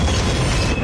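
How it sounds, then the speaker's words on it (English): A train approaching at about 50 miles an hour, a loud, dense rumbling roar filling the short moment with no break. "standing in front of a train that's going 50 miles an hour"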